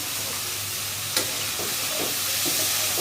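Egg and lentil curry being stirred in a pan, a steady sizzle and frying hiss with soft scraping strokes and a brief sharp clink near the middle, fairly close and without talk.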